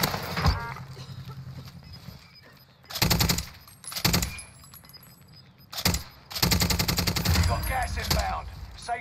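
RPD light machine gun fire in Call of Duty Warzone, several close, loud sustained automatic bursts of rapid rattling shots separated by short pauses, with quieter game sounds between bursts.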